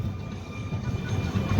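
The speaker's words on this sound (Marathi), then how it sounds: "तर बेलापूरवरून मित्रांनो आपली ट्रेन जी आहे ती सध्या निघालेली आहे." Low rumble from the Pune–Shirdi Intercity Express (11423) pulling out of Belapur station, a steady, moderately loud carriage drone heard from onboard.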